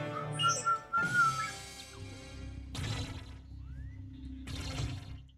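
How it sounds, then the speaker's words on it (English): A person whistles a short, clear melodic phrase during a Star Wars Fall of the Empire pinball game, with machine noise, bursts of game sound and a steady hum around it. "Don't whistle."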